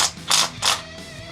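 Cylinder head bolts are loosened on a 1947 Willys CJ2A, with three short, close bursts of ratcheting clicks separated by brief pauses.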